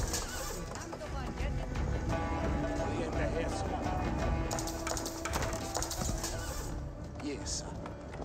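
Horsemen clip-clop across the field in an Age of Empires 4 match between English and Mongol armies, with hoofbeats and a whinny under a dense, steady game soundscape while a commentator talks throughout.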